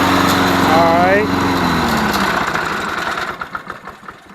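A Honda Harmony lawn mower engine with a non-working self-propelled drive runs loudly nearby at a steady high-pitched drone, then slows and sputters down into uneven chugging toward the end.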